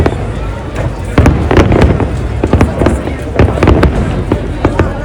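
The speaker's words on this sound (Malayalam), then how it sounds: "ഈ വർഷത്തെ ഗ്ലോബൽ വില്ലേജിൻ്റെ ഏറ്റവും വലിയ ഹൈലൈറ്റ്സ് എന്താണെന്ന് ചോദിച്ചു കഴിഞ്ഞാൽ ഈ ഫയർ വർക്ക്സ് ആണ്" Fireworks burst at Global Village in Dubai, with a rapid series of loud cracks and booms close by and the hum of a crowd underneath.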